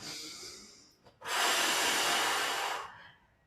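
A deep breath during a yoga pose for the lower back and hips, a short inhale followed by a long, loud, airy exhale close to the microphone.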